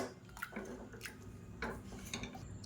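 A masher working through soft cooked dal and pumpkin in a pot for sambar, quiet irregular wet squelches and light metallic taps against the pot, faint and close, no voices.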